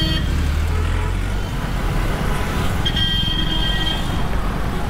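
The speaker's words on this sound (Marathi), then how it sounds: "सोलापूर का सिटी ट्रॅफिक." City street traffic in Solapur rolls past as a dense, steady roar of engines and road noise, with a short horn toot partway through and no clear talk.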